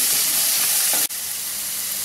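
Onion with ginger sautéing in a pan for vegetable pulao, a steady, bright sizzle close by that cuts out briefly midway, then carries on without voices.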